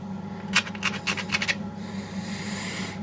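A small knife scrapes the grooves of a brush cutter part in a quick burst of five or six short, dry rasping strokes, close and crisp, followed by faint background hum.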